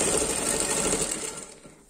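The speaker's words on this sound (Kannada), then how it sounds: "ಎಡ್ಜಲ್ಲಿ ಇನ್ನೊಂದು ಸ್ಟಿಚ್ ಹಾಕ್ಬಿಡ್ತಾ ಇದ್ದೇನೆ" A sewing machine runs steadily, stitching along the edge of a baby frock with a dense whirring rattle that fades and slows to a stop near the end.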